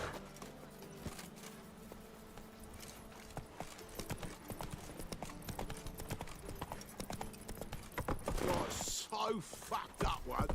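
Roach, the horse in The Witcher III, clip-clops in a steady galloping rhythm under game music and scattered talk, with hoofbeats growing louder near the end.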